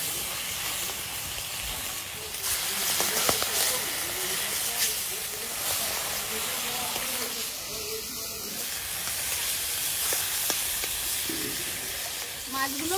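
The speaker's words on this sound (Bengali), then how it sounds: "মাছগুলো ভাজা হয়েছে" Tilapia fish frying in hot oil in a wok, a steady broadband hiss and sizzle running through the whole stretch at close range, with faint clatter of utensils over the top.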